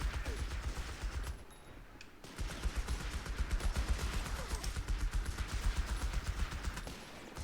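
Steady automatic gunfire from battling units in Company of Heroes 3, rapid rattling bursts with a brief lull, then dense continuous firing resuming at a moderate distance.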